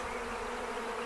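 Honey bees being shaken off hive frames into a box make a dense, continuous buzzing swarm, close and steady throughout the brief moment.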